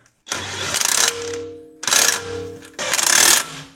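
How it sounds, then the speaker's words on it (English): A power tool runs in three loud, close bursts of buzzing mechanical whir, each lasting about a second, separated by short pauses. "That I use the help of power tool, which is going to make the job a lot easier."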